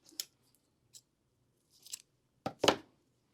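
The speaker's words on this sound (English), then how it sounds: "This trim, and I'm just going to cut this like I did the other, cut it in half" Scissors snip through ribbon trim in a handful of quiet, crisp cuts separated by pauses, the last cut longest and loudest, with no speech.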